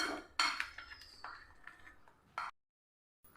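A whisk mixes batter in a bowl to break up lumps, a series of quick clinks and scrapes that fade away, followed by a stretch of silence and one last tap.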